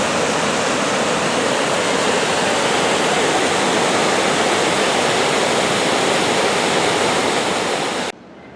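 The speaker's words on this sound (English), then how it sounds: "Noisy little river, isn't it?" A noisy little river in Laxey on the Isle of Man rushes under a roadway, a loud, steady broadband roar of churning water that holds unbroken and then drops away abruptly near the end.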